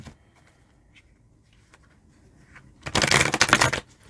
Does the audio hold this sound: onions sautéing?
no